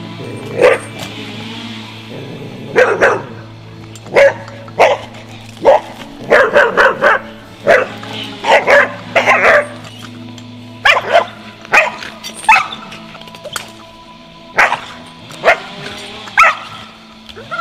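A border collie barks repeatedly during an evaluation test, loud and close, in irregular bursts of sharp barks and yips separated by short pauses.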